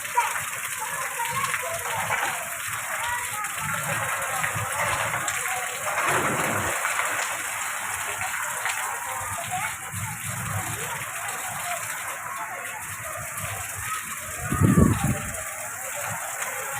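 Heavy first monsoon rain pours down as a dense, continuous hiss that fills the whole clip, with people talking underneath it.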